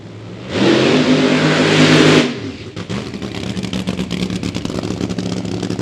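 Nitro funny car burning out its tires at Eddyville Raceway Park, a loud sustained roar for about two seconds that cuts off, followed by rapid rough engine pops and crackles at idle.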